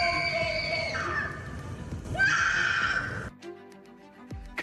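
A loud scream played by a law firm as a test over South Philly: a long, high, wavering shriek that bends and breaks into a second cry, then drops to quieter echoing tail sounds.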